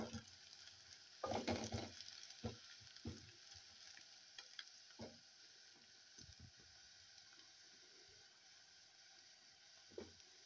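Onions frying in a pan until golden brown, a faint continuous sizzle broken by a scattering of stirring knocks and scrapes from a spoon, quiet and close, with no talking.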